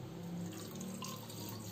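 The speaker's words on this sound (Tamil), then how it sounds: "இப்போ இந்த பாத்திரத்தில் நான் கொஞ்சமாக தண்ணி வந்து ஒரு அரை கிளாஸ் போல் தண்ணி ஊற்றிக்கிறேன்" A small amount of water, about half a glass, poured into a cooking vessel for a home cold remedy, heard as a soft, steady trickle throughout, fairly faint and without talk.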